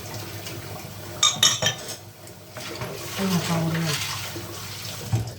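Onions and bulgur for kısır are sautéed and stirred in a pan, with a quick cluster of clattering utensil strikes followed by softer scraping and a low hiss, and a voice briefly heard.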